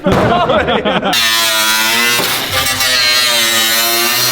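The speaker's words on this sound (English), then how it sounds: "There was a lot of cutting and destruction going off at this minute" A power tool cuts into the bodywork of a damaged Ferrari 458 during a rebuild, giving a loud, close, continuous high whine that starts abruptly after a brief burst of rough noise.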